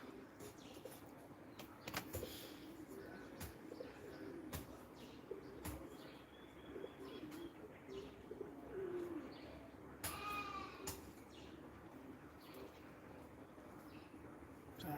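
Doves coo softly outdoors while small birds chirp now and then, all faint and distant against a steady bed of background noise, with a brief brighter run of chirps partway through.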